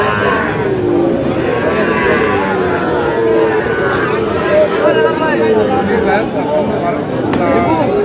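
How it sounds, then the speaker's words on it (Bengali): A Sahiwal bull at a busy cattle market lets out long, loud, drawn-out moos, with a crowd chattering in the background. "শাহিওয়াল ষাঁড়"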